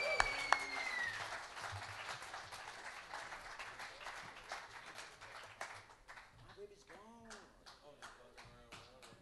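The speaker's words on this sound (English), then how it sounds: "Applause for Patrick on the soundboard, ladies and gentlemen." An audience at a blues concert applauds in a steady wash of clapping that gradually thins out, with someone talking over the crowd.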